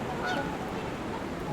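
Trumpeter swans honking at a distance, a few faint brassy calls over a steady outdoor background in a short burst.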